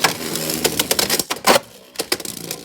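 Beyblade Knightmail top launched and spinning in a stadium, giving a burst of rapid clattering, rattling hits and scrapes that come in quick irregular clusters over a few seconds, close and fairly loud.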